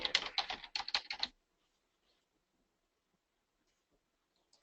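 Rapid typing on a computer keyboard while a web page is edited, a dense burst of close clicks for just over a second, then near silence with a couple of faint taps at the end.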